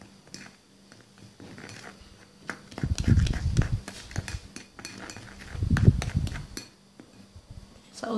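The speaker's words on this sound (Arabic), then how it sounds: "ونحرك جيدا حتى نحصل على كريم متجانس" A cream of cornstarch and aloe vera gel is stirred in a bowl, with clinking spoon-on-bowl scraping that rises in two busy bursts between quieter stretches.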